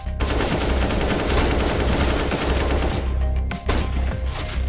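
Dense, loud gunfire from a CS:GO match, sustained almost without pause across the whole stretch, with only a brief dip near the end before the shooting resumes.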